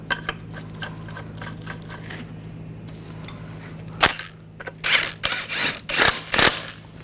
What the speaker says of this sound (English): Get the lug nuts started.